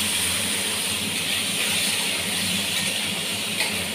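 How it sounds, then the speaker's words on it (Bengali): Onion, cashew, ginger, garlic and tomato fry together in a pan, giving a steady, dense sizzling hiss that stays even and fairly loud without a break. "এগুলো একটু নরম করে ভেজে নেব।"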